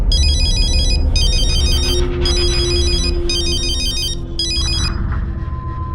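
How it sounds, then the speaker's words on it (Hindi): A loud electronic phone ringtone chirps in five repeated bursts, each about a second long, over a background music bed in a Hindi crime drama scene. "हाँ, अब किसका फोन आया?"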